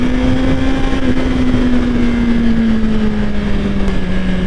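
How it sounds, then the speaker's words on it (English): A 2024 Suzuki GSX-R1000R four-cylinder liter bike drones steadily under light throttle, a smooth continuous engine hum with a slowly falling pitch mixed with wind rush while riding. "I'm hardly touching the throttle, and I love the sound of the 4-cylinder."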